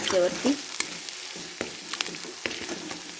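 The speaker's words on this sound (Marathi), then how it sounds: "हा मसाला चांगला तेल सुटेस तोपर्यंत परतून घ्यायचा चांगला मंद" Masala paste frying in oil for spicy misal, stirred with a spatula: a steady close sizzle with scraping strokes and a few sharper clinks against the pan.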